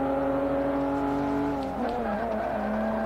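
BMW 1 Series M race car in Forza 5, its engine holding a steady high drone with harmonic whine that dips briefly as the gear shifts, then settles again, loud and close with no talking.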